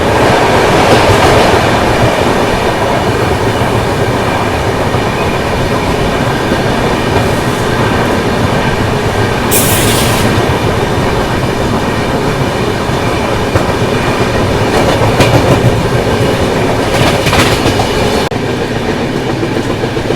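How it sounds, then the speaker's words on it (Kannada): At night the Sachkhand Express thunders past close by, a loud, unbroken roar of wheels and carriages with rhythmic clatter and brief bursts of hiss, steady from start to finish. "overtaking Sachkhand express"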